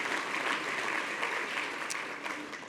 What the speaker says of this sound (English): So big round of applause for Jeremy and Connie.